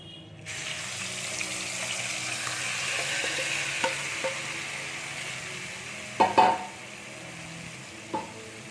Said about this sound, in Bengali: এবার এর মধ্যে চিকেনটাকে ছেড়ে দেব